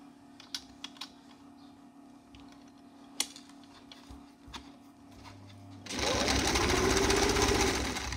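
Sewing machine stitching a folded half-inch hem on a front-open designer jacket; quiet clicks and handling noises come first, then the motor kicks in with a loud, steady close whir for the last two seconds.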